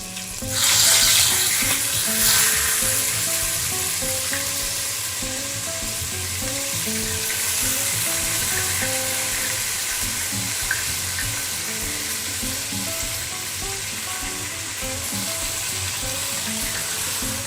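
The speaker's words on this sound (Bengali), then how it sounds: "মাংসটা একটু ভেজে নিয়ে তারপরে মশলাটা দেব।" Beef fries in a pan with whole spices such as cinnamon, cloves, cardamom, black pepper and bay leaf, giving a loud, steady sizzle with stirring scrapes throughout.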